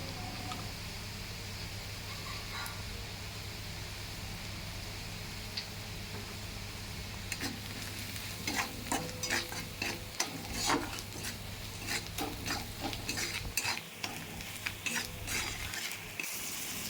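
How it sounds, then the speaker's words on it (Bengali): Spice masala of chili, cumin, coriander powder, turmeric and salt fries in a pan, a soft low hiss at first, then a burst of clicking stirring strokes and crackle in the later half, faint overall. "ভালো করে মশলাটা ভেজে নেব"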